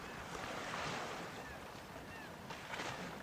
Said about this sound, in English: It's the little waves from the boats that hit the rocks on the shore.